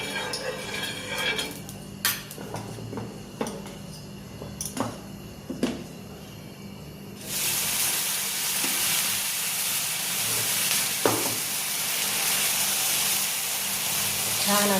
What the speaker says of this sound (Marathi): तवा ठेवलाय तापायला, थोडंसं तेल लावून घ्यायचं तव्याला